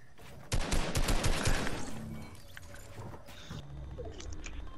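Rapid Fortnite gunfire rattles in a dense burst of close, loud shots lasting over a second, then thins into scattered, fainter shots and game noise.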